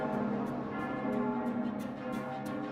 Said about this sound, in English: I hear bells ringing